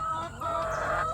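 Chickens about a year and a half old cluck steadily in a crowded poultry coop on a small Indonesian farm, a close, continuous chorus of overlapping clucks and calls with no talking.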